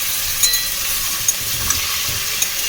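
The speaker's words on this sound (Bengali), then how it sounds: "এখানে এখন হচ্ছে আলু ভাজা" Potatoes sizzle as they fry in a pan, a continuous hiss broken by a few small pops and stirring clicks. It is close and moderately loud, with no one speaking.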